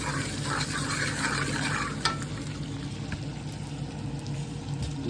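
Filipino garlic fried rice fries in a pan with a soft, constant sizzle under light stirring scrapes and an occasional utensil knock; fairly quiet and steady, with no voices.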